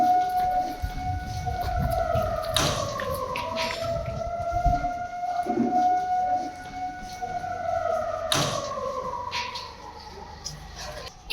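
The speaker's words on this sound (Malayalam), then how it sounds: "ഇതിൽ 104 ഇടത്ത് സൈറൺ മുഴങ്ങി" A civil defense siren wails during a mock drill in Paravoor, Kerala, a steady distant tone with slow rising and falling pitch, sounding continuously over faint outdoor background noise.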